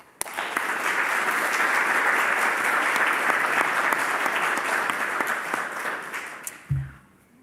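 Lecture-hall audience applauding to welcome speakers, a dense steady clatter of many hands lasting about six seconds before it stops abruptly, followed by a brief low thump.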